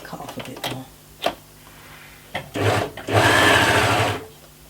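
An overlocker sewing machine stitching pieces of fabric together runs in a steady, close mechanical whir for about a second, after a few short clicks and bursts of handling noise, with a voice speaking briefly.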